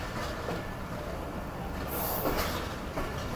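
Steady rumble of a train at a railway platform, heard at a low level with a brief hiss of air partway through, no voices.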